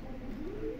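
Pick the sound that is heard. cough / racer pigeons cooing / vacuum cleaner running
racer pigeons cooing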